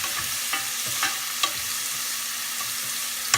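Red onions sizzling and frying in a hot pan, a steady crackling hiss punctuated by a few scraping stirs of a utensil, close and with no one talking.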